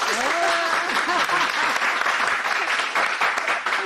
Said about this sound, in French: Il faut applaudir pour l'amour.